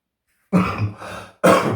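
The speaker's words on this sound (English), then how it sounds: "Still got a chesty cough." Two harsh, chesty coughs from one person, loud and close, the first drawn out and rattling, the second following after a short gap.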